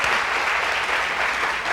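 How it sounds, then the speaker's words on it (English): An audience gives a round of applause for a women-in-the-workforce expert panel, a dense, continuous burst of many clapping hands, loud and steady for under two seconds. "Please give them a round of applause"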